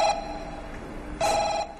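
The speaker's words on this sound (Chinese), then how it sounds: "来电话。" A telephone rings in a comedy sketch, two short electronic ring bursts separated by a pause, clear and fairly close over faint room noise.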